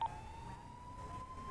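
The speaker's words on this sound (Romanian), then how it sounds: "Opri sirenele." Police car siren in the FiveM GTA roleplay video game, a steady electronic tone gliding slowly upward, heard faintly for a brief moment with no voices.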